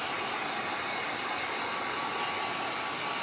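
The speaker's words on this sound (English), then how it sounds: "Just hit it with a heat gun." Heat gun blowing over resin art on a glass tulip piece, a steady close airy hiss with no breaks.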